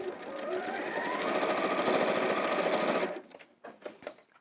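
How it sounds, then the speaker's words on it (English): A sewing machine stitching a foam-lined fabric caddy whirs fast and steady for about three seconds, then stops, leaving a few soft handling clatters. "So just take your time sewing through those threads."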